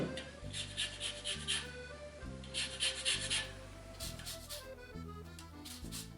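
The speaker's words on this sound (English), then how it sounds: "So first I'm going to start with the zest of 1 lemon, and this will give the nice citrusy flavor." Lemon zest is grated for madeleine batter, a close, quiet rasping scrape repeated in steady back-and-forth strokes with brief pauses between passes.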